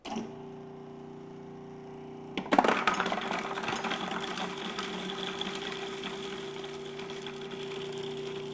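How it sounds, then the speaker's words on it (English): A Cuisinart Prep 9 food processor motor whirs steadily, then blades suddenly clatter and chop garlic, continuing as a busy, rattling mechanical whir. "You see how efficient that was at chopping garlic?"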